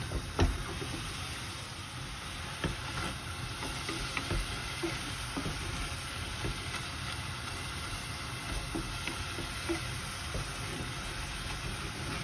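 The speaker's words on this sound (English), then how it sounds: "the meat is cooking with the olive oil that we've added and its own juices" Minced meat sizzling and frying steadily in olive oil and its own juices for Greek spaghetti with mince, a continuous close crackle with occasional stirring scrapes and no talking.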